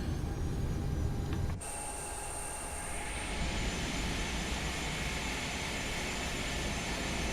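Engines of a TAM Boeing 767-300ER with winglets spool up for takeoff at Sao Paulo in Microsoft Flight Simulator 2020, a loud, continuous roar with a rising high whine that holds steady throughout.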